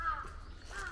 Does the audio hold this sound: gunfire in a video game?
no